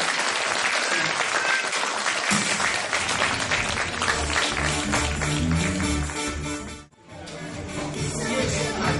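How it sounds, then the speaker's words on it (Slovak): Loud, dense applause from a hall audience at a 2010 awards ceremony in Nová Baňa, sustained with a brief dip near the end before the clapping swells again. "Ďakujeme vám za potlesk"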